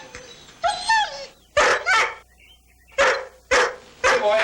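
A dog barks in loud, close bursts: a yelping, whimpery call first, then two quick pairs of sharp barks separated by short pauses.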